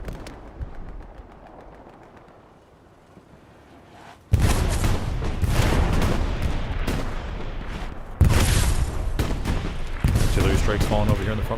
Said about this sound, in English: Artillery strikes falling over here in the front line.